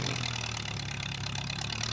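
A farm tractor idles steadily at close range in a rice paddy, its engine holding an even, continuous drone with no people talking.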